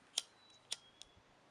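Scissors snip through fly fishing leader line for pike and muskellunge, two crisp close cuts followed by a lighter click, heard alone in a quiet room.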